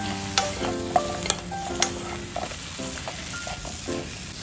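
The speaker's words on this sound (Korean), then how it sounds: "새송이 버섯 넣어 줄게요. 기름은 안 넣고 그냥 볶아 줄 거예요." King oyster mushrooms are stir-fried dry in a hot pan with no oil, giving a soft, steady sizzle broken by scraping stirs and light clacks, close and alone.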